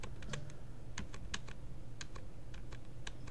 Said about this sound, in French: Et moi je termine avec les touches de mon clavier.